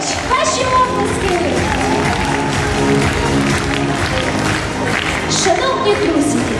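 An audience claps at the opening ceremony of a national history olympiad at Kherson State University, a loud, steady wash of applause with scattered cheers throughout.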